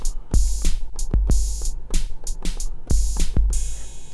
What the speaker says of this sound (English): we got a little 808 kit.